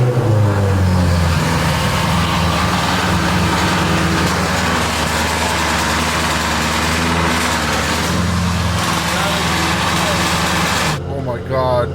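A loud car engine roars steadily after a cold start with its exhaust valves open, a dense, rumbling drone that fills the space before briefly easing near the end, with a person talking over it.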